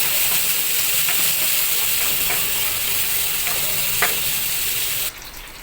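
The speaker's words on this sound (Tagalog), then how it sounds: "mitos lang natin unti hanggang lumabas yung aroma sa ating mga ingredients na nilagay" Ingredients sautéing in a pan while being stirred, a steady close sizzle and hiss running throughout with a few faint scraping clicks, cutting off suddenly near the end.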